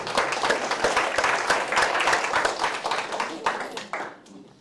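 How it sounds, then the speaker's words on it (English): An audience at a tech presentation applauds, a close burst of brisk, scattered clapping that thins out and fades toward the end. "big applause for you guys"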